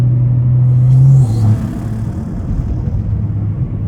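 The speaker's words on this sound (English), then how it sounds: "Like my windows are fully up and I can still hear my intake" Low, rumbling engine drone of a 500hp BMW 340i with a front-mount intake, steady exhaust hum easing off after a moment, heard close up from inside with windows up on snowy roads.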